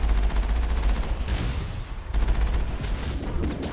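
Dense rapid gunfire in Mass Effect, a Geth Colossus battle, crackles in fast automatic bursts, loud and close, pausing briefly midway before resuming.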